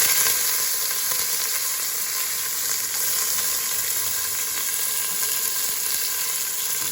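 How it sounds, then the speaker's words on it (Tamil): Onions sizzle steadily in hot oil with fennel and mustard seeds for a Jaffna crab curry, a dense continuous frying hiss with faint stirring scrapes, no talk. "வெங்காயத்தை அப்படியே போட்டு அப்படியே கிளறுவோம்"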